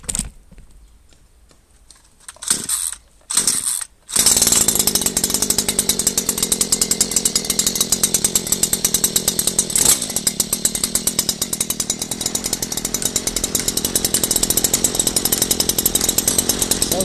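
Stihl KM 94 RC combi engine fitted with a pole saw: a few sputtering pull-start attempts, then it catches and runs with a steady, loud, rapid two-stroke buzz.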